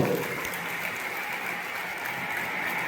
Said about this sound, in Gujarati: એમને જોરદાર તાળીઓ આપણે બનાવીશું